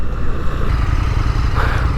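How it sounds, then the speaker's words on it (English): An Indian FTR1200 motorcycle engine drones with a low, burbling rumble as it decelerates under engine braking, steady and close against rushing road noise. "Just the engine braking on it."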